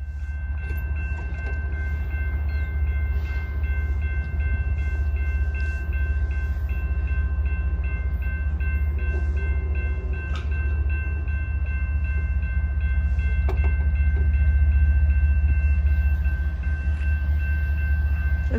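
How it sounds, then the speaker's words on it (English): A train rumbles past steadily on the tracks at a small railway town, its low drone constant throughout. Faint clanks and squeals come from the passing cars, with no voices. "Here comes the train."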